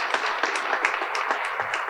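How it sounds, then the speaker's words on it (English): Applause at a casino's one-year celebration in Portsmouth, Virginia: a steady wash of clapping from a gathered crowd, moderately loud and continuous over the short stretch, with no voices over it. "That does deserve a round of applause"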